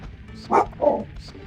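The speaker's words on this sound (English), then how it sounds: "boy had to start barking, of course." A dog in the game Dark Cloud yaps twice in quick succession, short light barks heard close and fairly faint over a quiet background.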